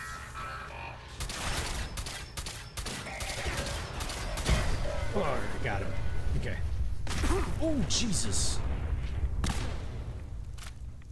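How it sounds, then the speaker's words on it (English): Explosions and bursts of gunfire from Fallout 4 combat crack and thud in quick succession, mixed with crashing impacts, while a player talks and reacts over the chaos. "That was a little bit bigger an explosion than I thought it was going to be."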